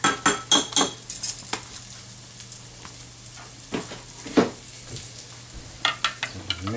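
A spoon scrapes and clinks against a pot as beef broth is stirred in for boeuf bourguignonne, with a steady run of metallic taps and knocks close up and a faint sizzle underneath.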